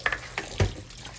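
Tap water running over dressed greens as they are rinsed in a sink, a brief spell of splashing with a few short gushes.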